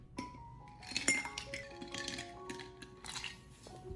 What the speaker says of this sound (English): Next, add plenty of ice and stir well.